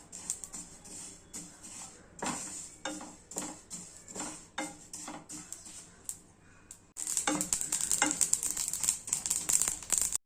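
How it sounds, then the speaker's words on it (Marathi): Sesame seeds sizzle as they roast in a pan, with repeated scraping and clinking as they are stirred, growing louder and more continuous toward the end. "तीळ परतून घेऊया. चालवत राहायचं जेणेकरून तीळ उडणार नाही"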